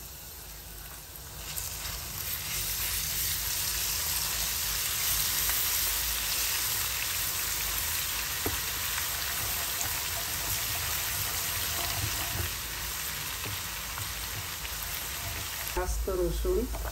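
Chopped garlic and whole mustard seeds sizzling in hot oil in a pan, a loud, dense, continuous hiss close up with a brief clatter near the end.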